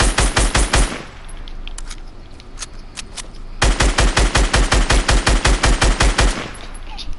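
Rapid gunfire in a video game, a loud close burst of evenly spaced shots, a pause with scattered faint pops, then a longer sustained volley of steady rhythmic shots.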